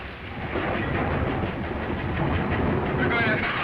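Train in motion in a 1940 film, a loud, continuous rumbling roar with a dense, gritty rattle that holds steady throughout.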